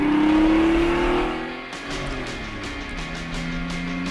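A car with a 3.4 twin plug engine revs up to a loud whining peak, then drops off and settles into a steady, throaty rumble at closer range.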